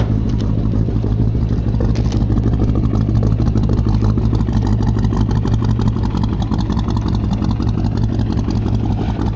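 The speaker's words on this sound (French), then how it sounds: "je vais te faire écouter un peu le moteur, les échappements, ce que ça donne" A Chevrolet C10 pickup's V8 idles with a deep, steady low rumbling exhaust throb, loud and close, running continuously without pause.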